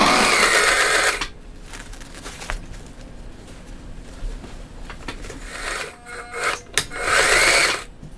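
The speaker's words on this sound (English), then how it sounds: "This is where we're sewing all the boxing together." An industrial sewing machine stitching the boxing strips of a homemade boat cushion, running loud and steady in two bursts at the start and end with a quieter stretch of handling noise between.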